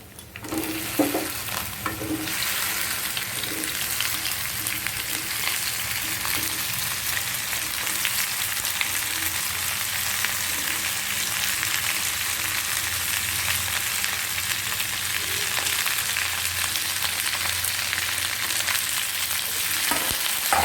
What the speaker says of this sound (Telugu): ఇవి వేగిన తర్వాత చూడండి, నేను కట్ చేసుకున్న బెండకాయలు వేసేసుకుంటున్నాను.